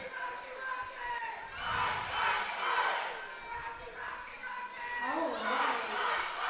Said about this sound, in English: Definitely getting some support from the Rocky Mountain fans in the crowd.